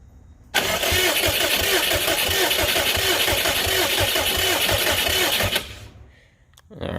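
A Subaru WRX engine in a BRAT build cranks and catches abruptly, then idles loud and steady with a rough, pulsing note for several seconds before cutting off, followed by a brief faint sound.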